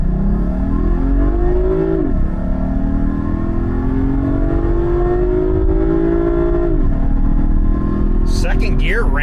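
A 2015 Cadillac CTS pulls hard from a stop, its engine note climbing loudly through the gears with two clear upshifts. A voice briefly exclaims near the end.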